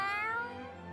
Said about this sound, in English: Why the cat getting angry?